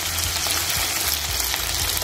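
Tomatoes and curry leaves sauté in a pan for a Tamil-style okra chutney, giving a steady, close, loud sizzle broken by scraping stirs.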